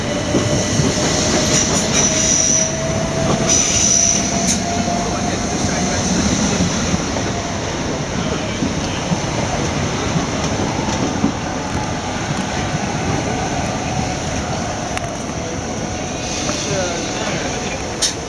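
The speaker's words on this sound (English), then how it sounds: "The train now approaching platform 13 is the 17-12 Southern service to Brighton" Southern service train arriving at platform 13 at Clapham Junction in the evening, a loud continuous rumble with faint rail squeals and wheel clatter, under a station announcement voice.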